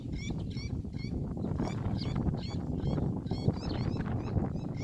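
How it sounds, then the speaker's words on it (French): Many birds calling outdoors near water points where thousands pass through, a continuous flock chorus of repeated honking and chattering calls over a low rumbling background. "Écoutez les oiseaux."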